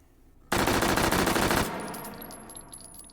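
An H&K MP5K submachine gun in the H3VR video game fires a rapid full-auto burst lasting about a second, loud and close, followed by a fading echo and the clink of spent casings.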